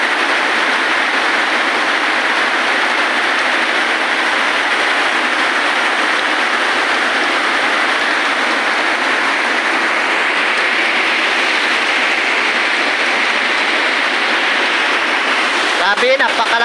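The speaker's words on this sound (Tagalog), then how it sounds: "Grabe yung ulan dito sa amin." Heavy tropical rainfall in Agusan del Sur pours down in a dense, loud, continuous hiss that stays steady for the whole stretch, with a faint knock near the end.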